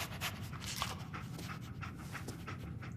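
Dogmeat, the canine companion in Fallout 4, pants close and steady in quick rhythmic breaths, heard alone without speech.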